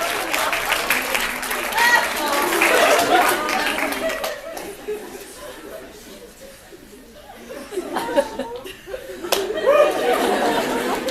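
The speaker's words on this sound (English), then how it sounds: "Let's give a roaring round of applause" Clapping from an audience at an awards ceremony swells and fades, mixed with laughter and chatter, then picks up again near the end.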